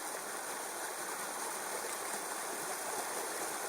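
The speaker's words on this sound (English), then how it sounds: "Certainly very noisy for a little waterfall. More like a rapid than a waterfall this." A small waterfall at Dampit Linn, where two burns meet, rushes loudly like a rapid, a steady close-up roar of churning water that never lets up.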